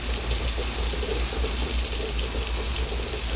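Water poured into a bowl of flour for no-knead bread dough, a steady continuous rushing pour that runs loud and unbroken throughout.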